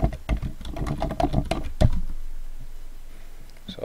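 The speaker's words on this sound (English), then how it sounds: "I'm gonna type." A run of quick keystrokes on a computer keyboard clatters close by in the first couple of seconds, then trails off into near quiet with a faint click at the end.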